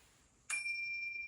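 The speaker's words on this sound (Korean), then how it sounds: "종소리 듣겠습니다." A single mindfulness bell is struck once for a breathing practice, a clear close ding that rings on with a sustained pure tone, against near silence.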